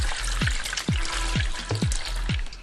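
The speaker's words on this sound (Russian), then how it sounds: "Снова выливаем в ведро" Fresh grape juice from pressed grapes for homemade Moldovan wine pours into a bucket, a steady close splashing stream with several gurgling glugs and drips, and no voices.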